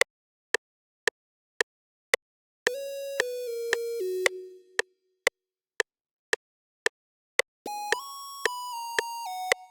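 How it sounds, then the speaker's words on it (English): A steady ticking pulse runs throughout while a bright, buzzy distorted sine synth lead in FL Studio plays two gliding melodic phrases, loud and close, for a 90s R&B beat. "It's basically just a sine lead with some distortion on it"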